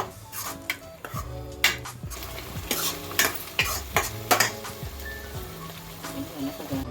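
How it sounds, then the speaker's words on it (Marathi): Tomatoes for a chole masala are stirred and roasted in a pan: repeated scraping strokes of a spoon against the metal come in an uneven rhythm over a steady sizzle, close and fairly loud. "तोपर्यंत मस्तपैकी भाजत राहायचं"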